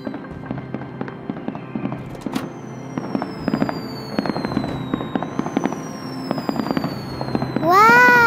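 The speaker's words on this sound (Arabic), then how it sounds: "ألعاب نارية رائعة" Cartoon fireworks go off in a rapid crackling volley of pops and bursts with whistling rockets rising overhead, loud and close, ending in a bright sparkling burst.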